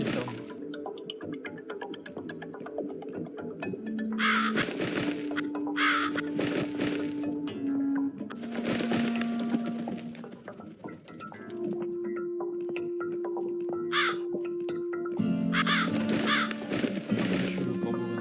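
Crow caws in the horror video game The Cat Lady, several harsh calls in short bursts over a low droning ambient hum and tonal game music, fairly loud and without speech.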